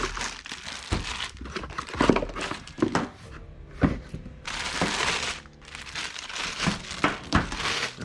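Packaging for an Everstart Maxx battery charger crinkles and rustles as it is opened, in close, loud, irregular bursts of crackling plastic and cardboard with no voices.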